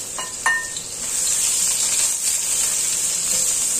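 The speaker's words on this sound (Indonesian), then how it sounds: "Ditumis sampai harum." Garlic, shallots and ginger sizzle steadily as they sauté in a hot pan, a bright continuous hiss with a couple of brief utensil clinks near the start.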